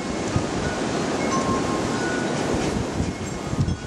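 Strong windstorm gusts roar as a loud, continuous broadband rush outdoors, with low rumbling buffets and no voices.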